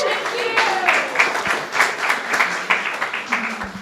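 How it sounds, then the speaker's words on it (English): An audience gives a round of applause for a band after its first two songs at a North Thames service, steady close clapping that runs throughout, with a voice briefly audible at the start. "let's just say thanks to the band, okay, for those first two songs. A round of applause."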